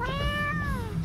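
A cat gives a single clear, drawn-out meow that rises and then falls, close and loud over a low background hum, with no talking.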